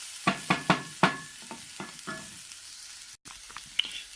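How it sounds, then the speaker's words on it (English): Stuffed pepper filling being stirred with a wooden spoon in a hot pan, with a string of sharp scraping knocks early on, then softer scrapes and a low sizzle, close and unaccompanied by talk. "it's now I'm stirring with a wooden spoon, making sure it will not burn"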